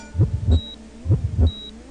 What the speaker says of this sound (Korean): 심장박동이 빨라졌어